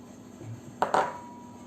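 A utensil stirring melted chocolate and sugar for brookies, heard as two quick clinks against the bowl close up, with quiet surroundings and no talking.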